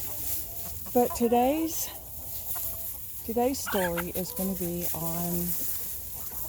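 Backyard chickens cluck in short, repeated, pitched bursts at close range, with a voice talking over them in a noisy outdoor setting.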